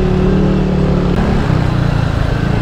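Motorcycle riding through Cebu City streets, a close engine hum that shifts pitch as it shifts gears, with steady road and wind noise and no talk.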